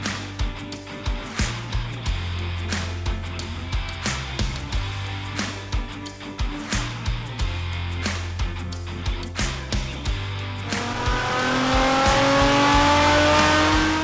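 A Nissan 350Z drift car, also used as a road car, revs hard in repeated rhythmic bursts, then climbs into a sustained high-rpm wail toward the end, loud and close.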